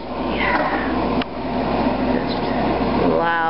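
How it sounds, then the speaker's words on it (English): A loud air conditioner runs beside a home vegetable garden of pepper and tomato plants, a steady broadband hum filling the whole stretch close by, with a voice speaking briefly near the end. "Loud air conditioner."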